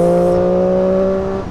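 Triumph Daytona 675 sports bike with a three-cylinder engine and aftermarket exhaust pulling hard in fourth gear past a lorry, a loud, steady, smooth triple howl held close by for over a second before easing off.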